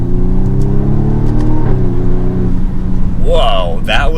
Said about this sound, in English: You do hear some cool little pops on the exhaust there.